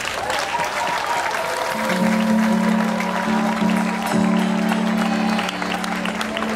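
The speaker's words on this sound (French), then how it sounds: "Au fond d'une salve d'applaudissements, s'il vous plaît." A round of applause rises from the audience in a hall, steady and fairly close, with sustained musical tones running beneath the clapping.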